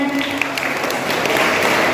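Students and staff clap at a school cluster-level chess competition prize ceremony as under-19 girls' results are announced. Brief, loud, continuous applause fills the hall.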